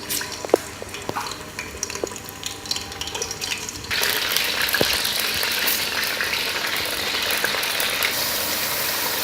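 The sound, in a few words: beef frying in hot ghee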